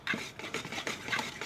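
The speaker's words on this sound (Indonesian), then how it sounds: "Dan ini kita aduk-aduk lagi sampai dengan tercampur rata semuanya" Steady close-up scraping and swishing of a utensil stirring vegetable oil into thick dadar gulung pancake batter in a bowl, rhythmic strokes with no voices.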